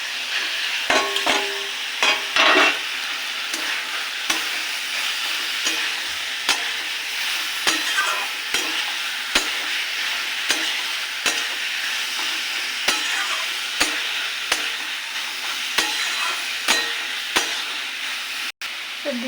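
Chopped banana flower stirred and fried in a pan with spices, a steady broadband sizzle with repeated scraping stir clicks throughout, close and alone.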